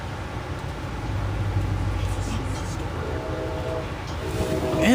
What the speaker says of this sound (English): And there's a CSX train.